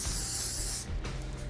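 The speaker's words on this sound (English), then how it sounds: "I'll mist the hair with our Theory spray" Theory hairspray misted over styled hair during an updo, a close, steady hiss of aerosol spray for most of a second, then stopping before a brief softer second burst.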